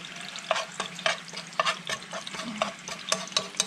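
Garlic fries in a pot for a piranha broth, a low steady sizzle broken by repeated sharp scrapes and knocks of a utensil stirring at a fairly regular pace.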